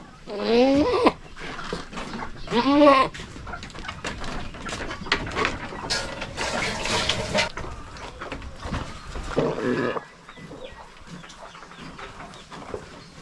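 Two loud, wavering bleats from goats ring out near the start, followed by mixed farmyard noise and murmuring voices.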